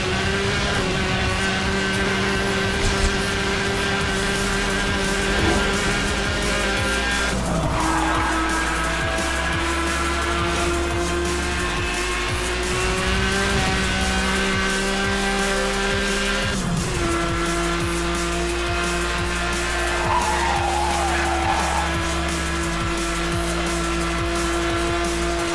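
A Porsche in Need for Speed Hot Pursuit runs off-road. A loud engine drones steadily throughout, with gear shifts and brief tire scrubs breaking the tone every few seconds over a constant rumble, and no one talks.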